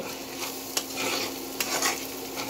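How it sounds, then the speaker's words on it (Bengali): Onion frying with egg in a pan for noodles: a steady sizzle with a few sharp utensil clicks and stirring scrapes, close and moderately loud, with no talking. "এই যে এখন ডিমের সাথে ভাজা হবে।"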